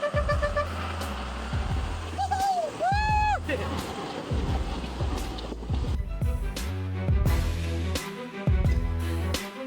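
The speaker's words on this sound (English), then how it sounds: "a truck packed with logs and a tractor crossing the river" A log-laden truck and a tractor ford a river, their engines rumbling under splashing water, with loud tonal horn-like whoops and music-like sounds, and speech mixed throughout.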